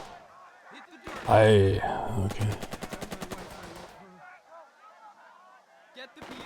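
Gunfire in the WW2 tactics game Burden of Command: a loud burst of shots followed by a rapid machine-gun rattle of evenly spaced reports, then quieter ambient battle noise, with a brief spoken word near the end.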